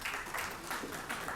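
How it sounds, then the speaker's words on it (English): Audience applause for a speaker at a WES Delhi 2017 event, faint and distant clapping in soft uneven surges, without any voices over it. "And a round of applause for her"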